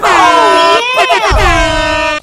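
A loud, blaring air horn sound effect blasts in long sustained bursts with a brief wavering break midway, played during a Dutch Minecraft Survival stream.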